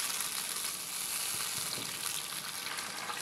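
Masala for Hyderabadi beef yakhni pulao is fried over medium flame, giving a steady, soft, close sizzle with faint stirring and no talk.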